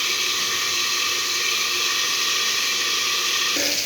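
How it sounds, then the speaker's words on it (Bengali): Pointed gourd (potol) frying in a pan: a dense, steady hiss and sizzle, continuous and fairly loud throughout, with a slight shift in tone near the end. "পটলটা লাল করে ভেজে নেব"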